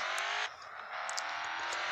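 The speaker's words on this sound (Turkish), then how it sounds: "Drift'i izleyin bakın." A video game car drifts sideways around a corner, its engine whining loud and steady with a short dip in the middle, while faint high squeals from the sliding tires cut through.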